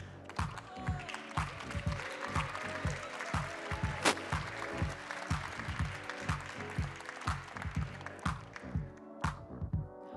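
Audience applause at a Tech For Future award ceremony, as a winner poses centre stage with a trophy: fairly faint, pulsing clapping with rhythmic beats throughout, and little or no talk over it.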